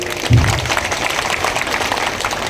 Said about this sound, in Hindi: आप सभी का मैं एक बार जोरदार तालियां बजाई जाए।